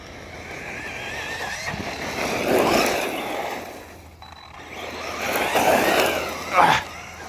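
Rock bouncer off-road vehicle engine revving hard through a wheelie, with rising and falling strain, a strong surge near the end, and a sharp burst of throttle, heard up close outdoors without speech.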